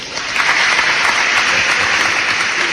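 Applause in a radio studio as a show's crew is introduced: a loud, dense wash of clapping that begins abruptly and holds steady throughout, with no voices over it.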